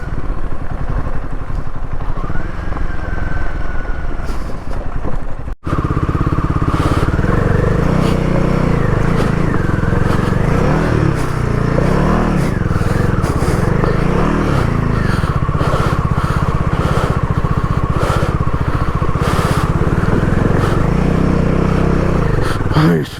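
A motorcycle rides the rough mountain road from Gunji toward Adi Kailash and Om Parvat, its engine droning steadily close up with clatter and scraping over uneven ground, plus wind buffeting throughout.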